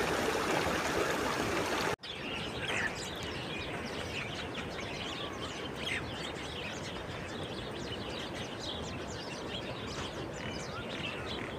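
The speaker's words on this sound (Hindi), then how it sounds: "और जड़ी बूटियों से होती हुई ये चश्मे का पानी" Spring water stream flowing through a forest in Kalam, Swat, a constant close rushing trickle with faint birdsong over it and no talk.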